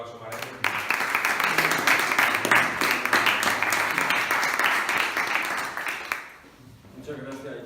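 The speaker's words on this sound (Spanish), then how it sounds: "Así que un fuerte aplauso para ellos." Audience applause after a presentation at a cultural centre in Spain: dense, steady clapping fills most of the clip before tapering off near the end.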